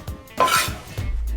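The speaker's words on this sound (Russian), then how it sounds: "Высыпаем в сковородку." Chopped pineapple cubes tumble into a metal frying pan with a brief clattering rush, followed by a low rumbling hum close by.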